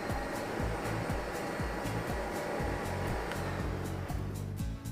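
A steam cleaning machine runs with its vacuum engaged, giving a steady, loud mechanical whir with rhythmic pulsing throughout and no voices.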